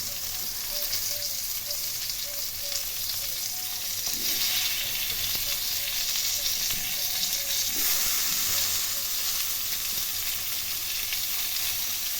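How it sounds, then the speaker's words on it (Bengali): Bitter gourd fries in hot oil with five-spice, giving a steady, close sizzle that holds throughout, with occasional stirring scrapes and no talk. "গরম তেলে পাঁচফোড়ন ভেজে নিয়ে এর মধ্যে উচ্ছেগুলো একটু ভালো করে লাল লাল করে ভেজে নিচ্ছি।"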